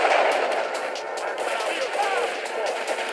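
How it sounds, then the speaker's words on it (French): Pump-action shotgun blasts in GTA 3 amid dense game action, loud repeated bursts over a noisy mix of gunfire and background sounds. "Le fusil à pompe,"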